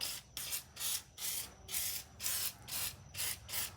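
Aerosol brake cleaner sprayed into a part during a 5.0L engine build for a 1986 Ford F150, heard as eight short hissing bursts in a steady rhythm, close and fairly quiet.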